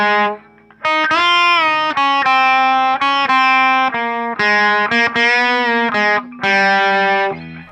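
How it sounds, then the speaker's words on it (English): An electric guitar solo played with distortion and chorus effects, loud sustained melodic notes bending and shifting in short phrases, close and alone. "Now this is the solo, which has that distortion sound again."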